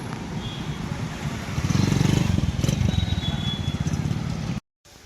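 A new motorcycle runs close by, its engine rumbling steadily and rising a little in the middle before cutting off abruptly at the end.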